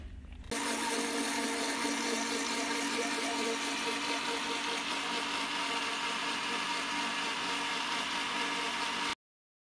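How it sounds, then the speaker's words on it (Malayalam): A blender whirs steadily and evenly for about nine seconds, blending cucumber, mint, lemon juice, sugar and a pinch of salt for a summer drink, then cuts off abruptly. "ഒരു ബ്ലെൻഡറിലേക്ക് ഞാൻ cucumber, mint, lemon juice, sugar, ഒരു പിഞ്ച് സോൾട്ട് ഇതെല്ലാം കൂടിയിട്ട് ഇട്ടിട്ട് ഇനി നമുക്കിത് നന്നായിട്ടൊന്ന് ബ്ലെൻഡ്"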